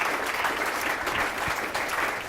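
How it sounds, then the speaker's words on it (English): Audience applause for three guest speakers at the close of an evening talk on exercise for type 2 diabetes, a steady wash of many hands clapping at even loudness throughout. "If we could just give them another big round of applause for this evening for coming in."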